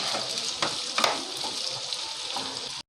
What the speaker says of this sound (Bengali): যতক্ষণ পেঁয়াজটা ভাজা হচ্ছে